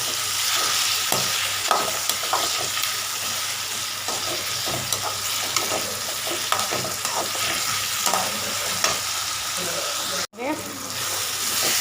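Tomatoes sauteing in a pan for lotus stem gravy produce a loud, continuous sizzle with frequent scraping stirs throughout, briefly cut off near the end before resuming.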